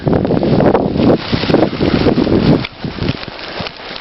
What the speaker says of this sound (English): I think we're gonna end up walking into the wind here.